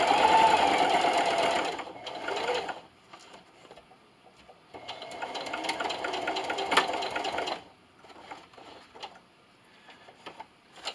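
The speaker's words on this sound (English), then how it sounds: "I'm going to backstitch." A sewing machine runs fast while backstitching the seam of a fabric cornhole bag, stitching in loud close bursts with pauses between them. Light handling noises fill the gaps.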